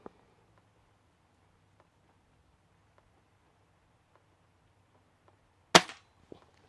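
A cheap, lightweight new toy pistol fires one sharp, loud cap-gun crack after faint quiet ticks and handling clicks, followed by a softer click.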